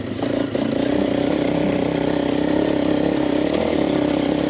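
Several dirt bikes, including Honda 300 rally bikes and a Suzuki DRZ 400, idle together with a steady, burbling engine drone at close range, continuous and fairly loud with no talk over it.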